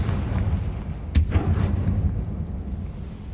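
A Confringo spell blasts in the video game Hogwarts Legacy, a single sharp burst followed by a short rumbling tail over a low continuous game background.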